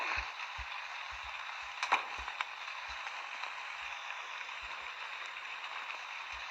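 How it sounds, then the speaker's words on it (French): Steady soft rain in a horror video game patters continuously at a low level, with scattered faint low thumps and one or two sharper ticks. "Bah si, il pleut."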